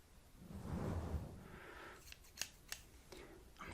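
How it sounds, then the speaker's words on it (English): Scissors snipping through hair during a soft-spoken ASMR haircut, a few crisp close snips spaced out after a low rustling opening. "I'm not gonna cut too much off."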